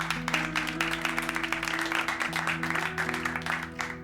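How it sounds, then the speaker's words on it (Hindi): Group clapping at the close of a case in a Hindi TV police drama, rapid steady claps over a sustained musical tone and low hum. "तालियां।"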